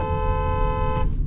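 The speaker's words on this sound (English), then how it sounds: "we're gonna do a quick little horn test before we get started." A 2023 BMW X3 xDrive30i sounds its car horn in one sustained, loud, close blast lasting over a second, a steady harmonic tone that cuts off near the end, with no talking.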